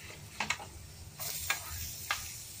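Onions frying in a pan with spices for south Indian masala dosa, a steady soft sizzle broken by several sharp scrapes and clicks of stirring, close and without talk.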